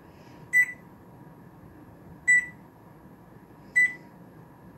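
Three short electronic-sounding beeps, evenly spaced about every one and a half seconds, made by a bird mimicking a phone tone over a quiet room hum.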